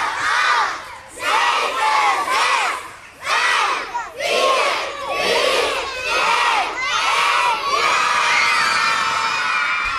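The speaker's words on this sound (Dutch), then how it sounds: "dan gaan jullie heel hard gillen" A crowd of children at a Dutch playground event screams and yells loudly after a countdown, in repeated long bursts with short breaks between, close and energetic, ending in a sustained cheer.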